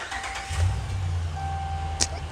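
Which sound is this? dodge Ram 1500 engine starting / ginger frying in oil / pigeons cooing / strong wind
dodge Ram 1500 engine starting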